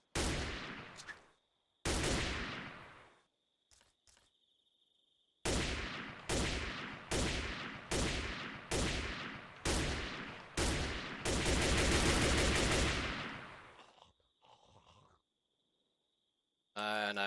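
Bursts of gunfire in the Manufactio modpack video game: rapid loud volleys in a steady sequence of separate bursts, then a longer continuous stream, ending in quieter intervals.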